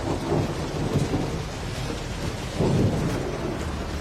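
Heavy rain pours down during flooding in Bhaderwah, Jammu and Kashmir, as deep rolls of thunder rumble through, swelling twice over the steady downpour with no voices.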